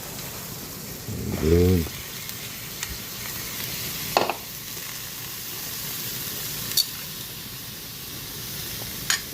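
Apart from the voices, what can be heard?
bitter gourd (ampalaya) sautéing in a pan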